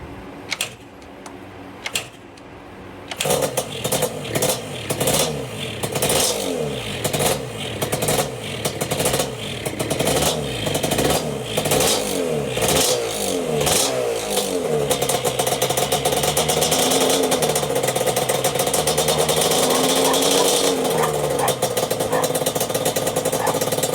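A ported Yamaha Banshee two-stroke ATV engine, fresh top end installed, is started on full choke after a few cranking bursts, then revs hard in repeated loud, close blips before settling into a sustained high-pitched, raspy roar.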